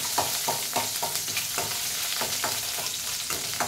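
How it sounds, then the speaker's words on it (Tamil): Two or three small onions sauté in a pan, a steady sizzle broken by a regular series of scraping stirs roughly every half second, close and clear, with no talking. "2-3 வெங்காயம் மட்டும் போட்டு இதை வதக்கிடுறேன்"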